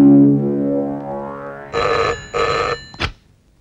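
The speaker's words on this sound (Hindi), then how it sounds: "जा जल्दी शीला के बाप को फोन कर दे।" A telephone rings in an early-1990s Hindi film scene: two loud electronic ring bursts come near and clear, each about half a second long, with a short click after them, following a held musical or vocal tone.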